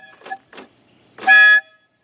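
One loud, steady blast of the horn on a long-abandoned Fiat 124 Sport Spider, about a third of a second long, coming just after two short bits of speech.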